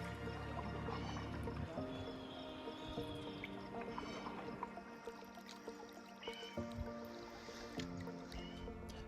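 A canoe is paddled across calm Stratton Lake in Algonquin, with soft repeated paddle strokes, drips and small trickles of water close by over a faint, steady background.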